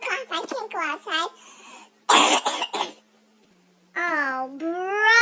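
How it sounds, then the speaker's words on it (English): Short forced coughs and throat-clearing burst out between bits of a child's babbling speech, close and fairly loud, with a silent gap before the chatter resumes. "Ooh, you have a cough."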